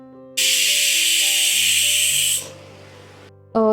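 A loud pressure cooker whistle, cooking country chicken pulao, hisses steadily for about two seconds over a background hum, then fades out.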